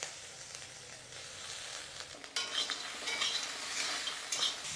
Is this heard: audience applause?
no